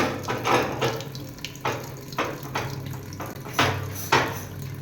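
Items being washed clean under a running tap at home, with a steady stream of water and repeated splashing bursts as things are rinsed and handled.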